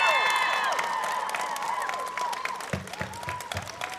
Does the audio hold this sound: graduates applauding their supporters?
yes